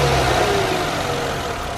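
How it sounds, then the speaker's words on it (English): A 2004 Chrysler Crossfire fitted with dual intakes roars steadily at close range, a loud, continuous engine note with no voices over it. "Start her up, baby. Rev it up a couple times."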